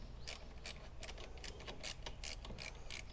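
A ratchet clicks in a steady, quick rhythm while loosening a bolt under the bonnet of a Mitsubishi Evo 6, close and fairly quiet, with no talk.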